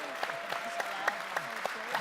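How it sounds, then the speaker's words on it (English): Audience at a hospitality industry debate summit clapping, a steady patter of hand claps with sharper peaks scattered through, heard from within the room at moderate level. "if you want to clap or cheer now."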